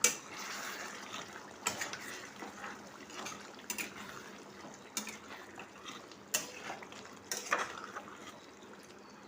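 Masala ghee roast chicken curry with two spoons of yogurt added is stirred in a pan, giving soft, recurring spoon clinks and scrapes every second or so over a low, steady cooking hiss.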